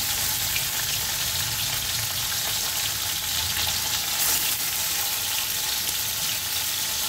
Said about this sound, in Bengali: সব মাছ ডিম একসঙ্গেই ভেজে নেব